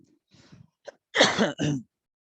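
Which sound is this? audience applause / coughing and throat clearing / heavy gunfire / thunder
coughing and throat clearing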